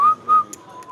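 A person whistles two short, clear notes close by, and faint background noise follows, set at a poker table.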